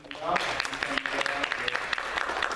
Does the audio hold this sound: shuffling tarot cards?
no